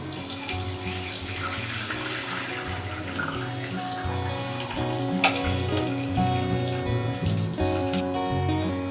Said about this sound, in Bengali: এখন এটা ছেঁকে নেব